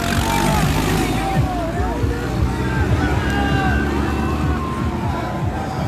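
Tractors at a farmers' tractor rally in Uttar Pradesh, including a powerful Kubota, rumble steadily with low engine drone amid loud crowd babble and a few horn-like tones, all continuous and close.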